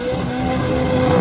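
Car engine revving at a street car meet in Luziânia, a loud, close, steady engine roar that rises slightly over about a second, no talk.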